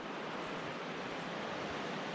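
Strong flow of the Middle Fork Snoqualmie River, a constant broadband rush of water heard up close, unbroken and without voices.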